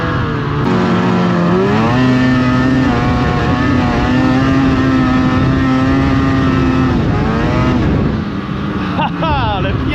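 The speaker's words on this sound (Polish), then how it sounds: "ja się po prostu zakochałem w skuterach śnieżnych" A Ski-Doo snowmobile engine roars close and loud during a ride near Zakopane, its pitch rising and falling as the rider throttles up and eases off.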